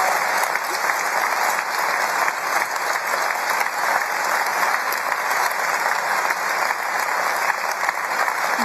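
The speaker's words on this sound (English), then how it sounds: "You're going to have to clap again" An indoor audience applauds after a political speech on the anniversary of the Scottish independence referendum. The clapping is dense and steady, loud and sustained for the whole stretch with no talk over it.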